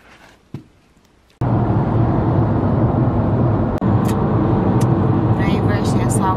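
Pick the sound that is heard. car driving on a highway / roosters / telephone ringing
car driving on a highway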